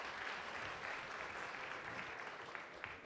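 An audience at a Polish jazz concert in a club applauds, a steady wash of many hands clapping that holds at an even level for a few seconds, with a few louder single claps near the end.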